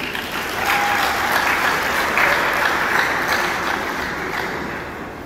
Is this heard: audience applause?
yes